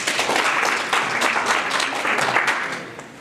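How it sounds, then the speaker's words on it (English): An audience at a realtors' breakfast expo at a resort claps for panelists, a busy, moderately loud round of applause that holds steady, then begins to thin and fade near the end, with no speech. "Please clap for our panelists"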